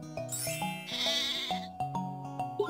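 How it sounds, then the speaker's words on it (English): Sheep bleating once in a long, quavering call over a bouncy tinkling melody of bell-like tones that carries on after the bleat fades. "S. Sheep."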